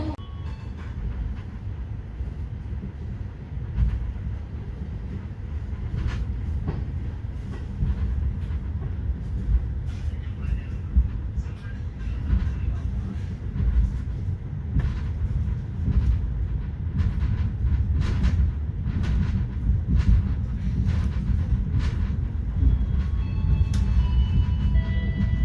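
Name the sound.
KA Gumarang passenger train running on rails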